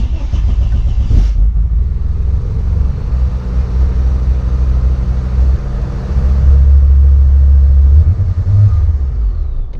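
An Audi S2 engine cranks and catches, then settles into a steady, slightly high idle, a loud close rumble with a small rise in revs near the end.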